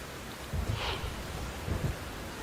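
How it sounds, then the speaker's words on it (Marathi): Heavy rain pouring over Bhiwandi city and its rural outskirts, a dense steady hiss with a couple of low rumbling surges, no voices. "भिवंडी शहर आणि ग्रामीण भागामध्ये मुसळधार पावसाची हजेरी बघायला मिळते."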